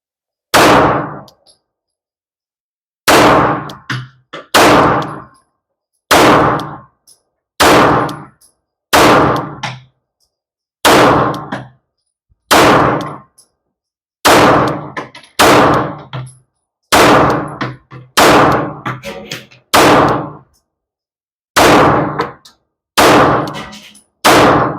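A Rock Island Armory M1911 A2 pistol fires about fifteen loud, sharp single shots at an uneven pace, with brief pauses between some of them and no voices.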